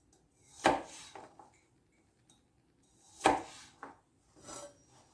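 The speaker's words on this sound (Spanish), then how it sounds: "Una vez pelados, los cortamos en láminas." A knife slices peeled garlic cloves into thin slices on a board, giving three crisp, separate cuts at a steady pace, close and clear with quiet between them.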